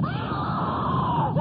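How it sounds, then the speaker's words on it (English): A distorted, high-pitched scream from the suicidemouse.avi animation, a continuous wailing tone that rises and falls for about a second and a half, loud and alone. "Didn't you ever get paranoid hearing that scream?"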